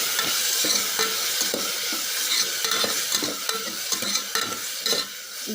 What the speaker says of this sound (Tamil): இது கொஞ்சம் வதங்கட்டும்.